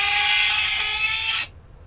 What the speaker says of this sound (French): c'est le ventilateur, le bruit vient du ventilateur